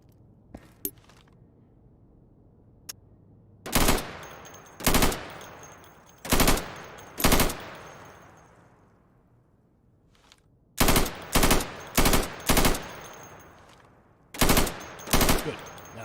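Gunfire in the video game Insurgency, shooting at plywood targets: two short bursts and two more, then a longer cluster of five rapid shots and two final bursts, loud and sharp with reverberant tails over a quiet background.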